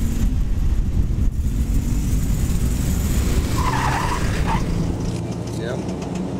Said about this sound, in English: See if the turbocharger will still spool up as a Grand National should.